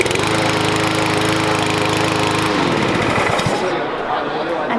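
A Craftsman battery-powered, push-button-start lawn mower runs loud and close, its steady motor drone shifting in tone partway through, with a voice over it.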